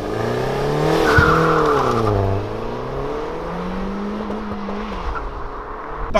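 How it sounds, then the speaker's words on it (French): A Peugeot 208 GTI by Peugeot Sport, 1.6-litre turbo with 208 horsepower, revs hard and launches from a standstill, the pitch climbing and dropping through gear changes, with a brief tire squeal early on. "rien de tel qu'un petit départ arrêté pour ce type de voiture"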